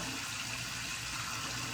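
Shower water running steadily while it warms up, a continuous close hiss of spray with no pauses.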